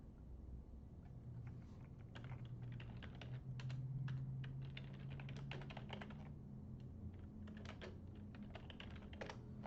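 Quiet, steady typing on a Canadian Multilingual Standard computer keyboard, rapid irregular key clicks in bursts, close and alone.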